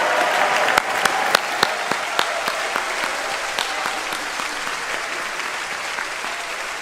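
A large commencement audience at a music school applauds bachelor's degree recipients, a broad, sustained wash of clapping with a few louder individual claps near the start, steady and gradually easing.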